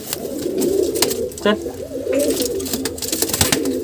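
Pigeons in a loft coo and call close by, mixed with bird noise, while someone speaks over them in short commands.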